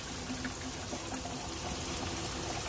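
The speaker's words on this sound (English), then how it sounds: "that water is currently filling this bucket" Water from a tap fills a bucket at a dog bathing station, giving a continuous splashing, gurgling pour. The sound is steady and moderately close, with no talking.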